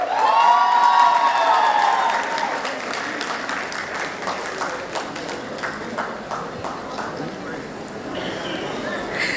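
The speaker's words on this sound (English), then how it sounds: "Please welcome with a great round of applause Dr. Ayshri Bandopadhyay" An audience at a medical college convocation gives a round of applause, loud continuous clapping with some cheering, a high whistle-like tone at the start, the clapping gradually easing.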